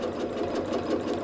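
A home sewing machine runs during free motion quilting, its needle chattering in a fast, even mechanical rhythm, close and continuous with no voices.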